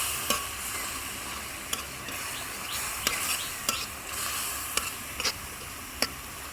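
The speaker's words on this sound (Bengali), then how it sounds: "মাছটাকে এই মশলার মধ্যে কষিয়ে নেব" Tengra fish is stir-fried in a spice paste in a pan. A quiet, continuous sizzle runs underneath while a spatula scrapes and clicks against the pan in sharp, irregular taps.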